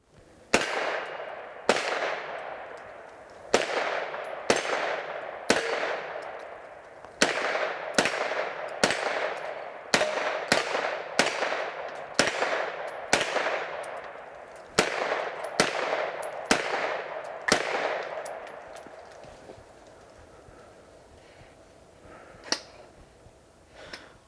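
Rifle fired with 115-grain Blazer Brass ammunition, a steady run of about fifteen loud, sharp shots at roughly one-second intervals, each with a ringing tail, then the firing stops and the scene goes quiet.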